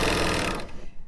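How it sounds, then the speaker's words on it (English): A Bernina L890 serger runs a 2-thread chain stitch over air, a fast, dense mechanical whir that stays loud and close, then winds down and stops within about a second. "because it's a serger, it can sew over air"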